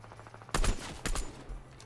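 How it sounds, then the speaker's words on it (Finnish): A Fortnite bot firing a gun: two sharp bursts of rapid shots about half a second apart, fairly close, with a fainter shot trailing after, no talking. "Mihin toi botti oikein ampuu?"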